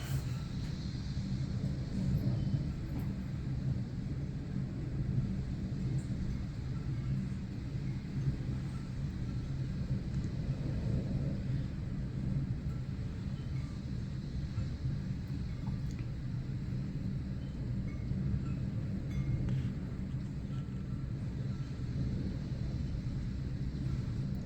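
Strong storm wind outside a house during thunder weather, a steady deep rumbling roar like a passing train, heard from inside at the top of basement stairs, continuous and even with no talking.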